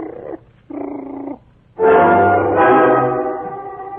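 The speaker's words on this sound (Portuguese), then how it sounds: "o cachorro de estimação lá de casa, começou a rosnar com os pelos eriçados" A pet dog's low growl in a 1947 Rádio Tupi drama broadcast, two short rumbling bursts followed by a longer, louder, sustained snarl, close and alone.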